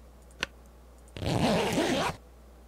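A single quick zipper pull in the video game The Long Dark, about one second long and fairly close, after a brief click, against a quiet hum.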